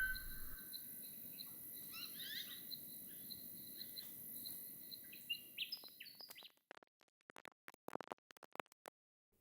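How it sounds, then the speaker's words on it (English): A bird song field recording: faint, scattered chirps over a steady insect and cricket trill, followed by a quieter stretch of sparse clicks. "I first became aware of John Hutchinson's bird recordings"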